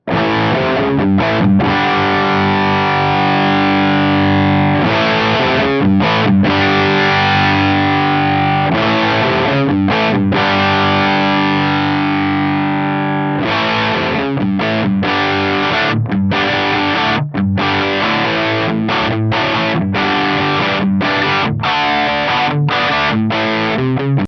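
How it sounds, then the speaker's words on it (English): Heavily distorted electric guitar through a Korg AX1500G's US high-gain amp model, riffing with chugging, palm-muted chords and sustained crunchy notes, loud and continuous, no voices. "I might just stick to this US high gain mode and see if I can get anything usable out of it."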